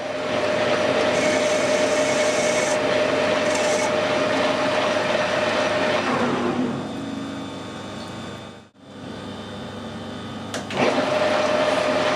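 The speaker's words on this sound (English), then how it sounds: "Just put a chamfer on the end." A metal lathe whirs steadily with a high metallic tone from cutting a chamfer on metal, then slows and briefly stops before spinning back up.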